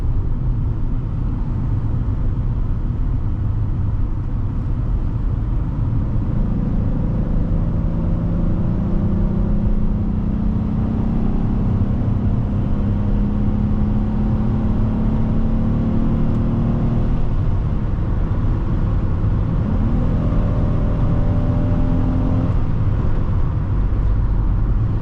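A 2005 Buick Rendezvous engine pulls steadily through a test drive, a continuous loud interior drone with rising harmonic whine as it accelerates, with tire and road rumble beneath and no talking.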